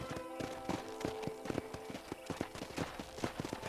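Horse hooves clip-clop at a steady walking rhythm in the video game Red Dead Redemption on PlayStation 3, a black horse's hoofbeats close and clear, with faint game sounds beneath.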